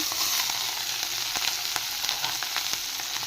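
Diced potato and soaked sabudana tipped into a hot pan for sabudana khichdi, giving a steady close sizzle with faint crackles and a few light stirring clicks throughout, no voices.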